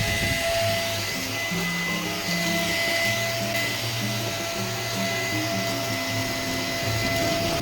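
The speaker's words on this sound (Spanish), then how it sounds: "voy a pasar la aspiradora y a limpiar con la mopa" A household vacuum cleaner runs continuously nearby with a loud, steady whirring hum and a high motor whine, without breaks.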